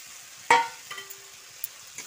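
Fried potatoes drop into a spice paste cooking in oil with a sharp clatter, then a quiet sizzle continues, with a faint hum and a few small clinks, and no one speaking.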